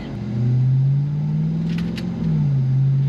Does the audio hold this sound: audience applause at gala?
no